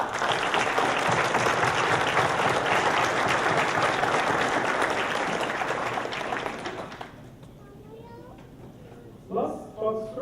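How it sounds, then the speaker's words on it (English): Graduates applaud their families at a 2015 senior graduation ceremony, a loud, dense round of clapping filling the hall for about seven seconds before fading, followed by a few brief voices. "Graduates, please stand up and join me applauding your families."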